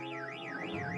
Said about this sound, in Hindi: टक्कर लगते ही उस कार का एंटी थेफ्ट अलार्म बजने लगा।